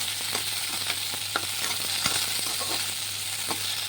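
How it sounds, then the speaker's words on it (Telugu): Green chillies sizzle steadily in hot oil in a pan, close and fairly loud, with occasional clinks and stirring scrapes throughout. "ఇదిగోండి పచ్చిమిర్చి అయితే వేసాను నేను"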